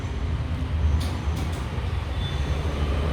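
A passing train rumbles steadily at close range, a heavy low roll of wheels and cars that holds even throughout, with no one speaking.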